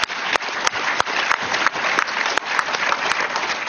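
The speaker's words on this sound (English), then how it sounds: "Oh, that was just a gimme applause." A crowd applauds at a political gathering near Capitol Hill, a loud, close wash of clapping with a few sharp claps and brief dips, continuous throughout with no speech.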